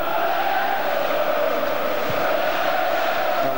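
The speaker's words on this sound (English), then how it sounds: "Crowd have been a little subdued, I think, tonight at Elland Road, finding their voices now." A football crowd at Elland Road during Leeds United against AS Roma, a steady roar of many voices swelling into chanting, constant and fairly loud throughout.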